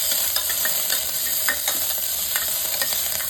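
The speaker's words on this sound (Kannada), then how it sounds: "ಚೆನ್ನಾಗಿ ತಿರುಗಿಸ್ಬೇಕು." Onions with green chillies, coriander and curry leaves fry in a pan for beetroot palya while a spoon stirs them, making quick clicks and scrapes over a bright, steady sizzle, close up and without voices.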